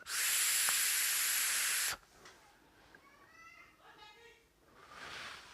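A tight draw through a Coopervape bottom feeder dripper e-cigarette gives a loud, close, steady hiss lasting nearly two seconds, followed by quieter talk.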